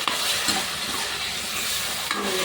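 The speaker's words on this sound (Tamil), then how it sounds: "ஒரு நிமிஷம் வதக்கிறோம்" A ground ginger, garlic and fennel paste sautés in a pan for a soya chunk side dish, giving a steady, close, loud sizzle and hiss with faint stirring scrapes, no talking.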